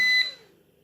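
A single short, high electronic beep from a Victor NM-3024 solar inverter showing error 57 rings out and quickly fades to near silence, close by and alone.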